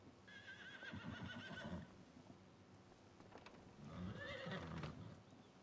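A horse in Farming Simulator 25 gives two loud whinnying neighs a few seconds apart, each a wavering high call over hoof and shuffling sounds, close and clear with no talk.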